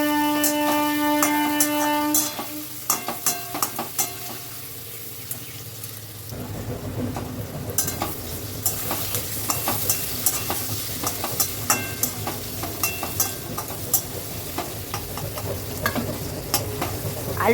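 Potatoes fry in hot oil with turmeric and salt, a steady close sizzle broken by repeated scraping and clinking stirs, busier after the first few seconds; no talk.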